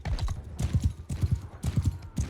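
Galloping horse hooves in Mount and Blade 2 Bannerlord, a fast, loud, rhythmic drumming in repeated bursts of pounding beats, close and alone with no talking.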